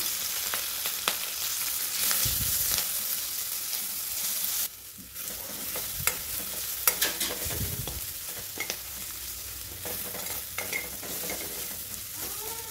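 Ginger, garlic and green chili paste fries with asafoetida and curry leaves in a pan for Khandeshi kadhi, giving a steady broad sizzle with scraping stir strokes and clinks throughout, a brief dip midway, and no voices.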